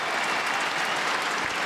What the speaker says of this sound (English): Applauding Boll.